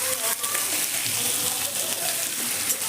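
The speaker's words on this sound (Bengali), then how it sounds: "বাদামটা ওই তেলের মধ্যে দিয়ে কয়েক সেকেন্ড রেখে আপনি পেঁয়াজ আর রসুনটা দিয়ে দেবেন।" Onion and garlic hitting hot oil with peanuts, a steady close sizzle and crackle with a few brief stirring sounds.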